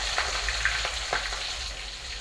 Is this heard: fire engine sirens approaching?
no